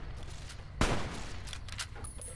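A companion fires a gun in Fallout New Vegas: one sharp, fairly close shot rings out early. Fainter pops and a low ambient hum follow, with no talking.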